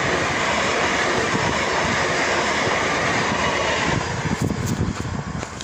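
A double train passes close by at reduced speed, a loud steady rumble of rail cars with wheel clatter and squeals, with no talking.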